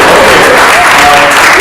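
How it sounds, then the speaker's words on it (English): A conference crowd in Belgrade breaks into brief, loud, close applause, a dense wash of clapping with a faint voice or tone sliding through it. "Oh, I can have an applause."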